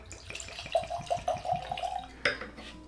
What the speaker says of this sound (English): Get a nice pour.